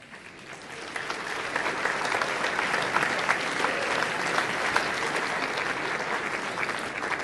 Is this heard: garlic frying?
no